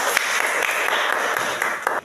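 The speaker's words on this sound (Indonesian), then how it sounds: "Silakan tepuk tangan." A classroom of students claps briefly, a short burst of applause lasting about two seconds before cutting off.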